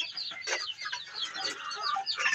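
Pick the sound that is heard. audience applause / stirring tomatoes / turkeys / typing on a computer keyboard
turkeys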